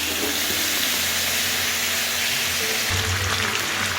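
Chicken frying in a pan until golden, a loud continuous sizzling hiss that grows slightly rougher toward the end, with no talking.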